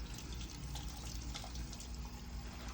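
Water runs from a faucet into a sink, a steady quiet splashing stream heard alone for a few seconds.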